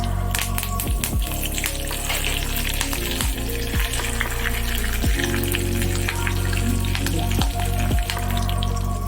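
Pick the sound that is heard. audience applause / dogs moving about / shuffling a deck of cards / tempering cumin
tempering cumin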